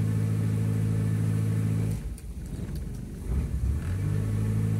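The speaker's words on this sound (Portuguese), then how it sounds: "tô acelerando, ó. Acelerei o máximo" A Ford Del Rey automatic car engine hums steadily up close, then its pitch surges and rumbles as it revs in reverse gear with a broken transmission that won't engage, before settling back to a steady idle.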